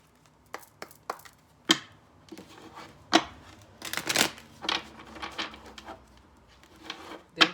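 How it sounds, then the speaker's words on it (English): Tarot cards shuffled by hand, making scattered sharp slaps and riffles with uneven pauses between them, close and fairly quiet, with no one talking. "But let me shuffle these."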